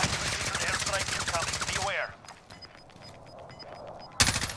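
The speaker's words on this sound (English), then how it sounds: "Got a fucking gas minigun." Minigun fire in the shooter game Call of Duty: Warzone, a rapid continuous burst of loud shots for about two seconds, then quieter scattered gunfire and a short loud burst near the end.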